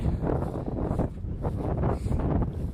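Steady wind gusting across the microphone out on the water during a fly-fishing outing, a loud continuous rumbling buffet that swells and eases over a few seconds with no voices.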